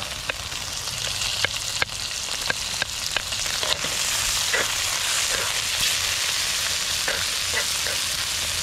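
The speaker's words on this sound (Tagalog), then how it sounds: "Igigisa naman natin tong spider shells at pugita." Spider shells and octopus sauté loudly in a hot pan with garlic and onion, a steady close sizzle and fry broken by repeated scraping and stirring clacks of a utensil against the pan.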